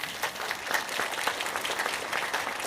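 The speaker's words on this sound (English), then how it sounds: "Let's give her a round of applause." A keynote audience claps in a fairly quiet, steady burst of applause heard from a distance, with individual claps blending into an even patter throughout.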